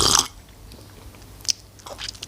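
Milk coffee made with sweetened condensed milk is slurped in a loud, noisy burst at the start, followed by a quiet pause and a few short, sharp sips or mouth sounds near the end.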